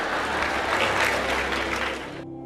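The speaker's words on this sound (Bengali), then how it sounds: "হাততালি থামাও।" An audience at a lecture gives dense, continuous applause for about two seconds, then the clapping stops abruptly, leaving a low hum.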